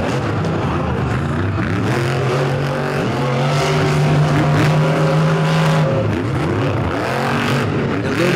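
Monster truck engines roar at a loud arena race, with the Jurassic Attack truck among them. Revs rise and fall in sweeping pitch as the trucks pass and accelerate, and the noise stays dense and continuous.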